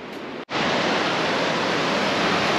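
Sea waves breaking on a wet beach after morning rain on the Baltic coast at Chłapowo, heard as a loud, steady wash of surf that fills the whole clip apart from one brief break near the start, with no talk.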